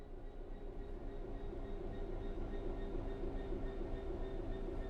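A train coasts on level ground with the throttle at zero in the Train Sim World 3 video game, giving a steady low rumble of rolling wagons that stays even and fairly quiet throughout, with no talking.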